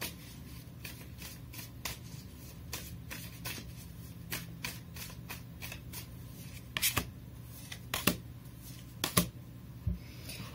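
Tarot cards shuffled by hand, a steady run of soft riffling flicks and taps with a few sharper snaps near the end, close by over a low room hum with no talking.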